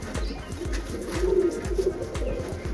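Birmingham Roller pigeons cooing in a breeder's loft: repeated low, throaty coos close by, overlapping in a soft rolling rhythm, with faint chirps and no talking.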